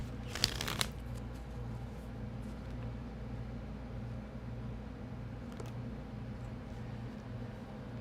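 Tarot cards shuffled in hand, a brief burst of crisp riffling and flicking near the start, then a low steady hum of room noise with a faint tap later, quiet and close, no talking.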